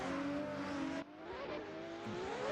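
BMW drift car revving hard at a competition, the engine note cutting abruptly as the e-brake is pulled, then climbing and wavering again with faint tire noise, heard from a distance and fairly quiet.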